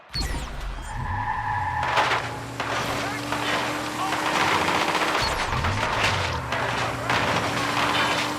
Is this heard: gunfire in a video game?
yes